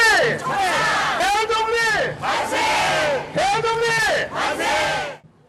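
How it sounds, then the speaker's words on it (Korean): A large crowd at a Korean independence 'manse' commemoration in Uijeongbu shouts the cheer in loud, repeated, drawn-out waves, several full-throated cries in a row with short gaps between them. "대한독립 만세 함성이 100년 만에 의정부에서 울려 퍼졌습니다."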